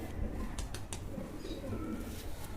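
A pigeon coos softly in a home loft, low throaty notes repeating under faint background noise, close but quiet.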